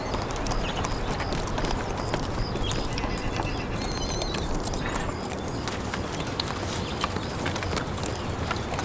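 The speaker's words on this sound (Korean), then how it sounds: "야생 당나귀 훌란이다." A herd of wild khulan donkeys in Mongolia, their hooves clattering in a dense, continuous patter on dry ground, steady and fairly loud, with faint bird calls above.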